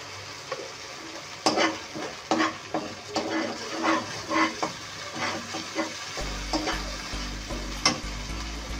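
Chicken leg pieces are stirred in a frying pan, a spoon scraping and knocking in uneven strokes over a soft sizzle, with a low hum joining near the end.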